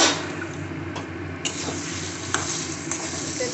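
Lentil paste for dhokar dalna pours into a hot pan and hits the oil with a steady, close sizzle, accompanied by stirring scrapes and a few soft knocks throughout.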